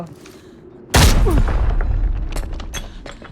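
A grenade goes off in the shooter game Arena Breakout, one loud, close boom that cuts through quiet ambience, followed by a rumbling decay with a few scattered clicks and thumps.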